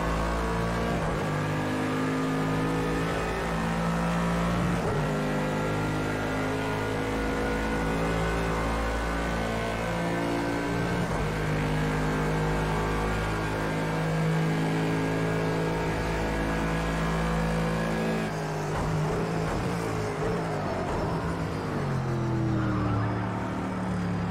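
Bentley race car in Project Cars 2 on the Monza circuit, its engine droning loud and continuously at high revs, rising steadily through gears with brief shifts and a drop in pitch near the end.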